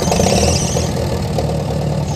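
A half-track tractor engine cranks and catches, settling into a loud, rough rumble that fills the whole moment.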